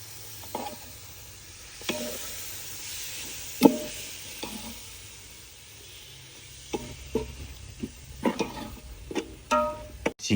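Country chicken frying with chilli and turmeric powder in a backyard kitchen, a steady soft sizzle broken by intermittent scraping stirs and clinks of a utensil, no talking.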